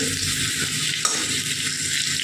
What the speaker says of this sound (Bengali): এই যে দেখো এখানে আলু ভাজতে বসিয়েছি